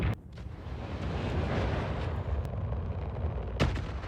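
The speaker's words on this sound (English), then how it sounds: "And I can fire some missiles." Missiles launched from an RSI Hermes ship in the Star Citizen game, a loud roaring rush of launch noise with sharp pops near the start and a burst near the end, close and continuous.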